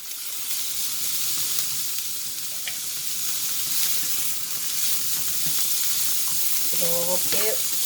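Bibimbap vegetables, starting with radish, fry in hot oil in a pan with a constant bright sizzle and hiss, and a voice speaks briefly near the end.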